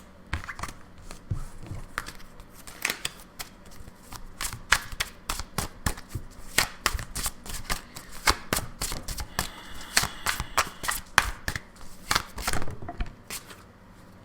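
Tarot deck being shuffled near and loud, a long run of rapid papery riffles and soft slaps of the cards with no talking.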